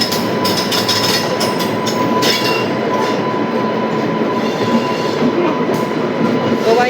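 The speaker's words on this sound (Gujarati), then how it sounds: "બંને ટ્રેન એકદમ પાસે આવી રહી છે" Two passenger trains, Porbandar–Rajkot and Veraval–Bhavnagar, run side by side near Jetalsar Junction, giving a loud, steady roar of rolling wagons and rail noise with faint clatter throughout, no talk.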